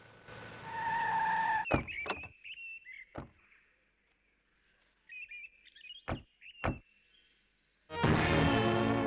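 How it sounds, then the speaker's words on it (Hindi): A car pulls up outside a house and stops, with a brief engine run and tyre noise, then several sharp knocks like door slams spaced through the quiet. Birds chirp faintly in the gaps, and loud music comes in at the end. "गाड़ी बाहर ही रोकता हूँ।"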